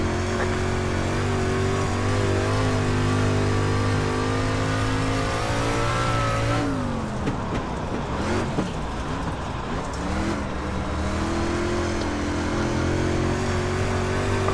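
A street stock race car engine in the iRacing simulator howls loudly and continuously at high revs on an oval, dipping briefly mid-clip as it lifts and then climbing back up, with no speech.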